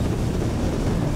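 Strong wind roaring on an exposed, dangerous descent, a dense unbroken rush buffeting close against the microphone, loud and with no voices.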